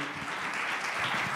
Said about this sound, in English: Please give Mr. Mehta a big round of applause